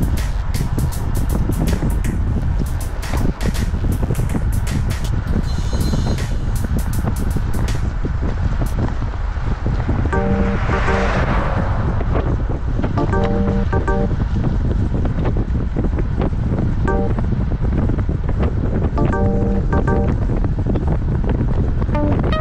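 Strong, steady wind roaring across the microphone of a road cyclist riding in the drops near the front of a group, a continuous buffeting rush that fills the whole stretch, with faint mechanical ticking and clicks underneath.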